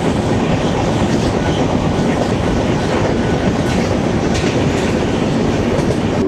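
The Tamralipta Express runs on the Howrah to Digha line with a loud, steady rumble and a rhythmic clickety-clack of wheels on rail joints, heard close and continuous with no voices.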